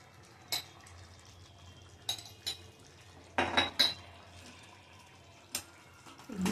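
Ole chane batata shenga bhaji stirred in a pan with a metal spoon, a few sharp scattered clinks and scrapes against the pan amid quiet kitchen background.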